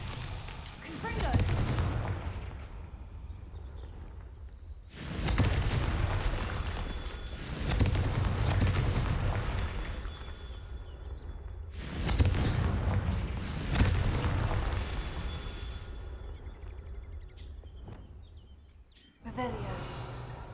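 Confringo fire spells in the Hogwarts Legacy game go off as heavy booming blasts, several in a row with long rumbling tails, loud and close, with a player's voice over parts of it.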